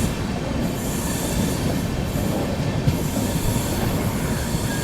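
Humsafar Express hauled by a WAP7 electric locomotive rolling through a sharp curve, with a continuous heavy rumble of wheels, steady rail clatter and faint squeal, sustained and close with no voices.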